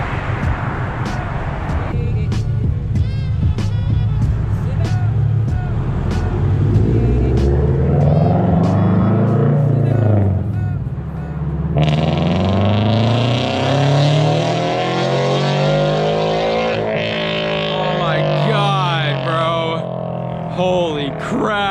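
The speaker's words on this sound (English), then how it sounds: "my first time hearing someone else drive my car with the new PLM headers from the outside" A deep, loud exhaust rumbles and revs as a Toyota GR86 or Subaru BRZ with catless PLM headers approaches and passes close by, its pitch rising and falling.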